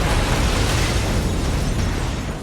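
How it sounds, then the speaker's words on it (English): Grenade blast in a film scene, a loud, sustained rumbling roar with heavy low-end weight filling the whole stretch and tapering slightly at the end, no voices. "A second later, Stan is gone in the explosion."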